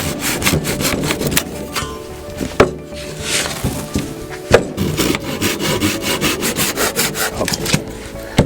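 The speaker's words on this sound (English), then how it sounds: "This is a bit long for a windowsill, so we shorten it down by sawing" Hand saw cutting through an old wooden pallet board, steady rasping back-and-forth strokes with a few sharp knocks, close and loud, no voices.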